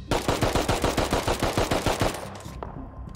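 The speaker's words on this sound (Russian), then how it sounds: "они просто в него стреляют. Я тоже стреляю" Close, loud automatic gunfire in the Rust survival game: a steady rhythmic string of about a dozen rapid shots over two seconds, then abrupt silence with a faint trailing echo.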